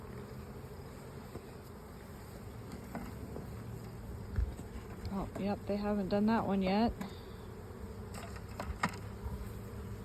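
Honeybees hum in a steady, soft buzz close by at an open hive, while a person speaks briefly over the drone.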